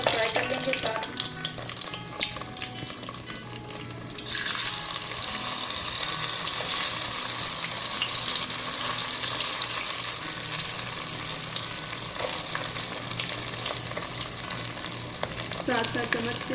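Raisins and almonds fry and sizzle in a pan of desi ghee while being prepared for sweet zarda rice, a steady loud crackle stirred with a spoon, with some brief clatter near the start.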